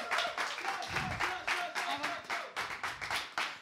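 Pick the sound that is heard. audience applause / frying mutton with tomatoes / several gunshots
audience applause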